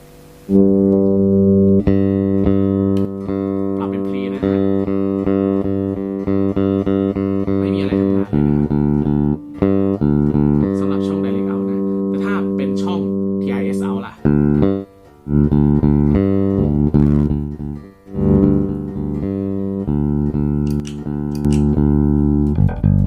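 Sustained, deep bass guitar notes with a thick, boosted tone through a Nux Melvin Lee Davis bass preamp and DI pedal play a slow melodic line, loud and close, with short breaks between phrases.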